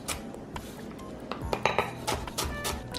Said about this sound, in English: slice your Brussels sprouts